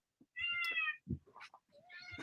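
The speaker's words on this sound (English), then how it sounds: "I heard that meow." A cat meows up close in a quiet room, giving a few separate tonal cries with short gaps between them, the first long and drawn out, the last rising again at the end.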